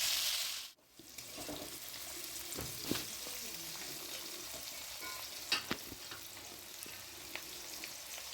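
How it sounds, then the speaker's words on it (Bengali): Sliced carrots and beans with a pinch of salt sizzle steadily in a pan for a mixed vegetable dish, with occasional scrapes and knocks of stirring and no talking. "দিয়ে ভালো করে নেড়ে হালকা করে আমি ভেজে নেব"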